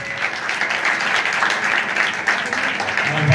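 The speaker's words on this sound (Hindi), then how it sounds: "तो बादशाही के लिए जोरदार ताली।" An audience gives loud, sustained applause with dense clapping that holds steady throughout, and faint voices rise under it.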